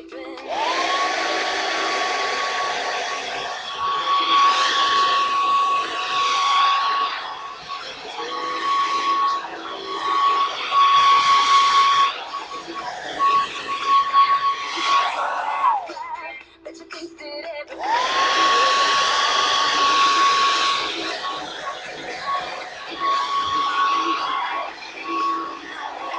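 Hair dryer blowing on hair, loud and close with a steady whine, its airflow rising and falling as it moves, cutting out briefly midway before starting again and running to the end.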